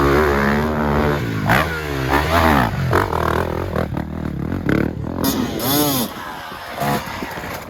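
Enduro dirt bikes with 4-stroke engines roll in at the Grinding Stone Hard Enduro, engines revving and rising and falling in pitch, with people talking over them.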